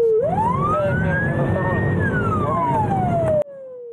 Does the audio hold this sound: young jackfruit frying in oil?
no